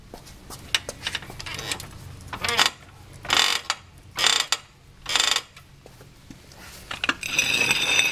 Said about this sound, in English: finish tightening the lug nuts with